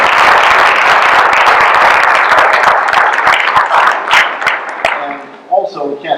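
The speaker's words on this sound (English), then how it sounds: "So we should give Robin a special round of applause." Audience applause for Robin at the C.F. Stradford Award event: a dense, steady round of clapping from a crowd, loud and close, that thins and fades near the end as voices start to talk.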